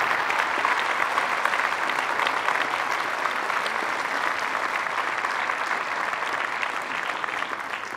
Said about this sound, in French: je voudrais que vous applaudissiez donc le conseil municipal des jeunes.